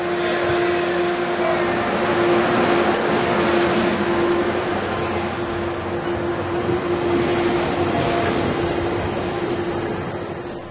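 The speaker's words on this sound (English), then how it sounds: "the A's train heads north toward the yard where it will park" An Altamont Corridor Express commuter train pulls away from the station with a loud, continuous rumble and a steady engine drone, swelling slightly then easing toward the end, with no voices.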